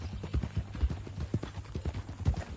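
A horse's hooves clip-clop at a steady walking pace in Red Dead Redemption 2, close and fairly soft, with dull, even footfalls throughout.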